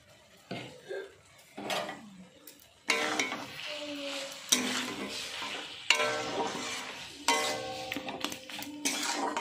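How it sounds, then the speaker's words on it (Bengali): Taro stalks cook in a pan as mustard oil is drizzled over the top, with irregular bursts of utensil clatter and scraping over a light sizzle that grows busier partway through. "এবার নামানোর আগে আমি একটু সরিষার তেল ওপর থেকে দিয়ে দিচ্ছি"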